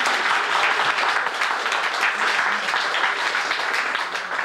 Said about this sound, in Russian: Вам остается только поаплодировать, чтобы подбодрить нашего финалиста.